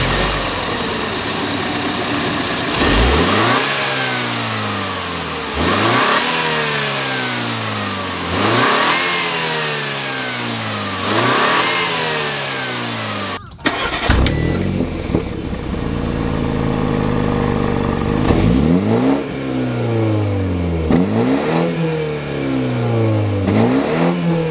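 BMW 530i with a 2.0-litre inline-four twin-turbo petrol engine and eight-speed automatic, revving up through repeated gear changes, each rising pull followed by a drop, loud and close with no talk.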